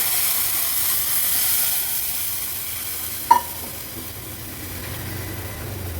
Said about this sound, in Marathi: आता गॅसची फ्लेम हाय करते आणि हाय फ्लेमवर हे बघा ही डाळ आपण ह्याच्यात ओतूया